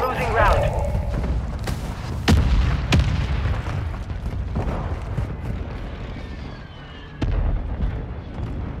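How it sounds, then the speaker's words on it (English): Mortar strike explosions in the video game Warzone 2: several sharp booms and thuds scattered over a rumbling battlefield background, some close and loud, others more distant, with a voice speaking over them. "Hostile mortar strike incoming."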